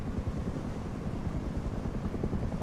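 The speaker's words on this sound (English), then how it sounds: "that helicopter's right on top of us" A helicopter in the survival game Rust hovers close overhead in a snowy area, a steady, loud, low rotor rumble that continues throughout with no talk over it.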